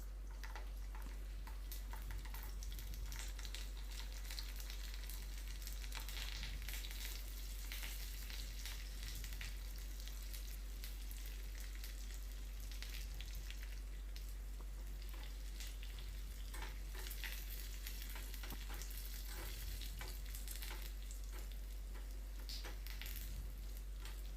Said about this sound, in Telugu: ఎండుమిర్చి, కరివేపాకు అవి వేసుకొని బాగా దోరగా వేగిన తర్వాత వెల్లుల్లిపాయలు అవి దోరగా వేగిన తర్వాత